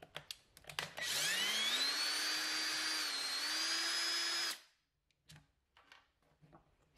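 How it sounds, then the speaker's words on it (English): A handheld power drill whines at a high steady pitch for about three and a half seconds, loud and close, then cuts off, leaving faint handling clicks and knocks. "But I also have my drill here."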